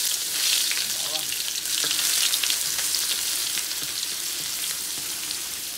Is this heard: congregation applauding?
no